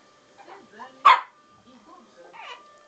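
A small dog begging for cheese gives a single sharp bark amid softer yips and whimpers, heard close while people talk nearby.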